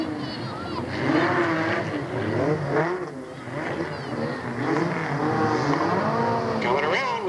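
Race cars running laps under a green flag at Delta Speedway in 1997, their engines droning and rising and falling in pitch as they circle, heard under an announcer's steady commentary.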